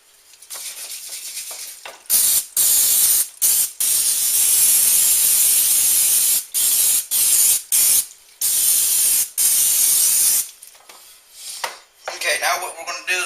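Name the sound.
cooking spray greasing a baking pan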